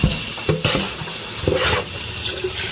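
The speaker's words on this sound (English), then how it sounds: "now I'm just going to add water." Water runs from a tap into a container, with a few clunks and knocks of handling near the start and middle.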